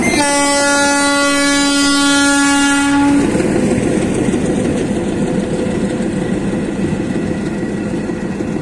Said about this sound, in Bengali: কিছুক্ষণের মধ্যে ট্রেন আসতেছে